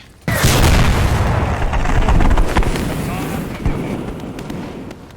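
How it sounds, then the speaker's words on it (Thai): An explosion in the World War II video game Squad 44 (Post Scriptum): a loud, sudden boom erupts, then rumbles and crackles for several seconds before fading slightly, with a smaller thump later. "ระเบิดแล้ว ระเบิดแล้ว พังแล้ว"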